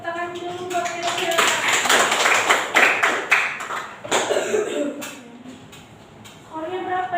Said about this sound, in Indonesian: Tepuk tangan dulu buat Kesia.